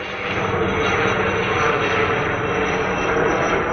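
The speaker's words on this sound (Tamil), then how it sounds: "சி ஃப்ளைட் இல்லை இது ஹெலிகாப்டர்" A helicopter flies over a street in Ernakulam, Kerala, giving a loud, steady, broad engine and rotor roar that fills the whole stretch.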